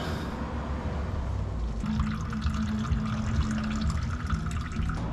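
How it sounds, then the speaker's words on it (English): Engine oil drains from a first-generation Cummins diesel truck in a steady, continuous pouring, gurgling stream. The splashing liquid runs close and fairly loud throughout. "Okay, so now I can drain the oil."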